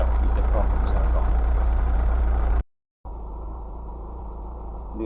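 A turbocharged Opel Speedster engine idles with a steady, close low rumble, broken by a short gap of silence before the idle carries on at a lower level.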